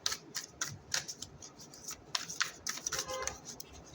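Quick papery riffles and soft snapping flicks repeat irregularly, like a deck of cards being shuffled close up, with faint murmuring in the background.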